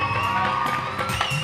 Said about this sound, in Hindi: खुदा के मंदिर में तालियां बजाइए